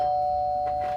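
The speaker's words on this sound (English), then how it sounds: "Hold on a second, I'm just going to get the doorbell." A doorbell ringing indoors, a steady sustained electronic chime tone held throughout, loud and close, with a faint second tone swelling near the end.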